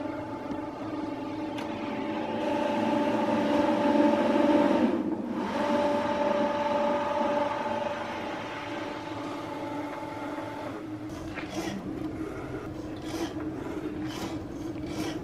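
A Cricut machine's rotary blade cuts fabric on a mat, giving a steady rasping, grinding whir with a sustained hum that shifts partway through, then short back-and-forth carriage movements near the end, close and alone.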